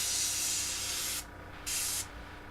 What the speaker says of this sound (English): If I don't spray as heavily down there with the NATO green when I go back for that pass